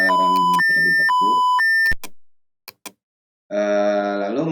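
Electronic alarm beeps from SCADA control software for an ice cream production machine: a loud sequence of steady two-tone beeps, then a pause with faint clicks, then a sustained harsh buzzing alarm tone.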